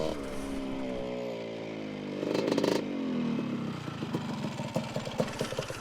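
A 47-year-old two-stroke motorcycle rumbles under a rider with a rough, clattering engine note that rises in revs midway, then settles into uneven popping pulses, loud and close with no talk.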